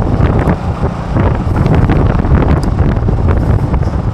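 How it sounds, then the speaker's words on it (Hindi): Strong wind buffets the microphone while riding a motorcycle with the helmet visor up, a loud continuous low roar and rumble that fills the whole stretch without any speech. "बहुत ज़बरदस्त हवा चल रही है"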